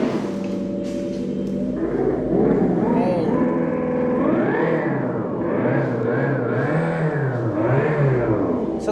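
An electric cafe racer bike with a 1500 W motor plays a simulated petrol engine note, a steady mid-pitched rumble that rises and falls in revving swells, heard close and fairly loud.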